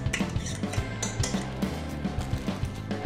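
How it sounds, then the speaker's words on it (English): A utensil scraping and clinking rhythmically against a bowl while a gluten-free dessert is mixed, with steady repeated knocks about every few tenths of a second, close and moderately loud. "So I'm just going to mix it."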